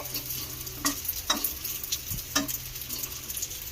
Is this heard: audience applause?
no